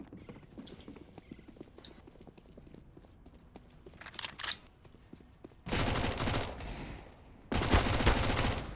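Rapid bursts of MAC-10 submachine gun fire in a CS:GO match, two loud sustained volleys near the end after quieter scattered shots and footsteps, no talk.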